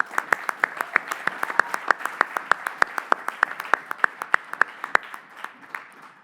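Audience applause at a Libertarian presidential debate: a steady run of sharp, closely spaced claps from a room of people, moderately loud and continuous, thinning slightly toward the end with no voices over it.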